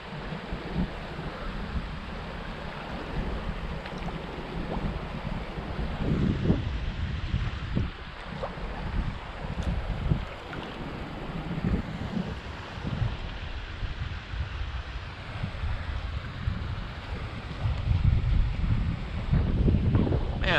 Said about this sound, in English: Man, that wind is gonna make this tough.